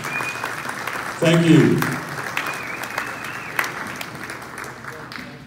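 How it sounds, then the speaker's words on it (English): An audience at a hall of fame induction ceremony applauds, a steady wash of clapping throughout with a louder swell near the start, while a speaker briefly talks over it. "Let's give these folks a round of applause."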